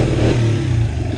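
A motorcycle engine revs steadily at close range in a short, continuous burst with a low rumbling tone and no talk over it.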